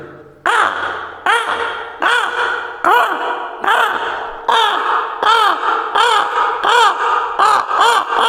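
A voice imitates a jungle crow cawing, giving about ten loud, close, harsh caws in a steady rhythm, each note short and throaty with brief gaps between.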